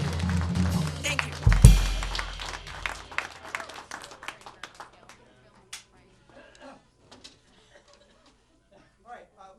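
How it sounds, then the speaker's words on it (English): Audience applause for dancers at a community access TV annual meeting, opening with a thump and a burst of clapping that tapers into scattered, fading claps, with a voice speaking over the start. "applause for our dancers out there"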